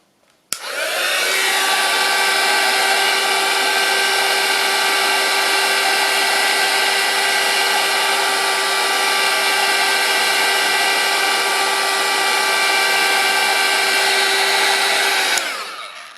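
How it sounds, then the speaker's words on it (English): A craft heat gun blows hot air onto a thermal till roll, a steady loud whooshing whine with a constant pitch that starts abruptly, holds unbroken for about fifteen seconds and then cuts off. "This is just a normal heat gun, craft heat gun, and I'm just going to blast an area"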